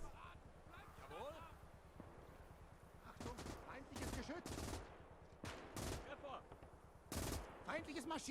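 Gunfire in the WWII real-time strategy game Call to Arms, on the Eastern Front: scattered rifle cracks and short bursts of machine-gun fire over a low rumbling backdrop, with a voice talking throughout.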